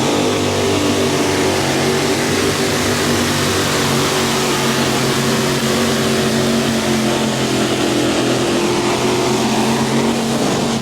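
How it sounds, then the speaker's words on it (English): A mini rod pulling tractor powered by a big block Chevrolet engine roars continuously at a 1994 pull in Bowling Green, Ohio, loud and sustained with a steady droning tone and slight misfire. "the big block Chevrolet missing out just a little bit as he came down the way"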